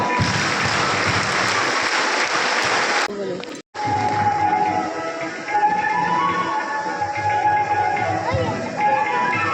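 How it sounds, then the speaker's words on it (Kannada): An audience at a temperance gathering in Dharmasthala claps loudly and continuously after a lamp-lighting ceremony. A sharp cut briefly silences the clapping, which then resumes with a voice speaking over it. "ನಮ್ಮ ಗೆಲುವಿನ ಚಪ್ಪಾಳೆ ಸ್ಟಾರ್ಟ್"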